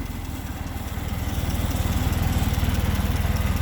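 A Ford Fiesta engine runs with its airbox removed, a close, loud, rhythmic low chug that hunts slightly and builds a little in level.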